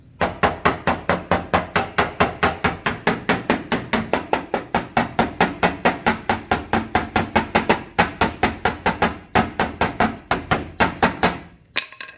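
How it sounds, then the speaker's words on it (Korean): Rapid, steady metallic hammer blows ring out on a sheet metal car panel, dozens of sharp strikes in a quick even rhythm with a brief pause near the end. "이런 거는 망치 판금이 더 빠르다 깔끔하고"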